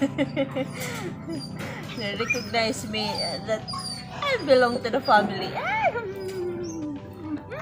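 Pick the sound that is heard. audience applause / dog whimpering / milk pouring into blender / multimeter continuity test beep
dog whimpering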